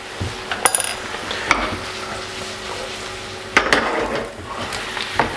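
Ginger and garlic are stirred in a pan of chicken stock boiling on the heat, with a steady bubbling sizzle and several close metallic clinks and scrapes of a utensil against the pan.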